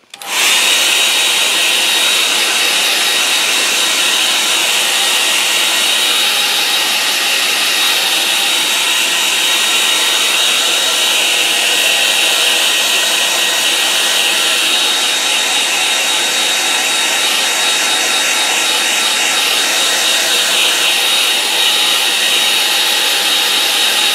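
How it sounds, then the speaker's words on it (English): A hair dryer blows steadily over a paint-covered painting, a loud continuous whooshing hum that starts abruptly and runs unbroken throughout, with no talk. "Okay, now I'm going to dry that now."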